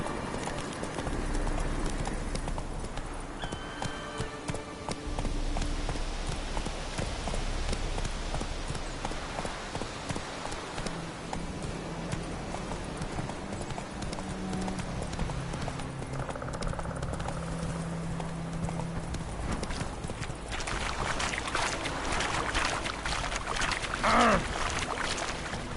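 Hooves clip-clop at a steady walking rhythm as a horse moves along in The Witcher video game, with game ambience and a brief higher-pitched sound near the end.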